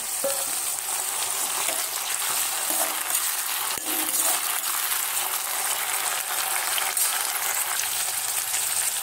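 Chopped onion and medium tomato fry in a pan, giving a loud, continuous sizzle with occasional faint clinks of a utensil, steady throughout without talk.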